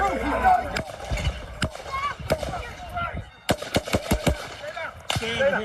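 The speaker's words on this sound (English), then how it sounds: "The sniper appears momentarily startled by the gunfire" Gunfire at a Trump political rally: a series of sharp, loud cracks in irregular clusters, some in quick succession, heard over agitated crowd voices and people shouting.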